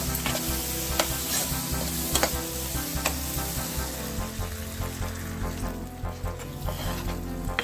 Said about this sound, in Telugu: పెద్ద గ్లాస్ వాటర్ పోసానండి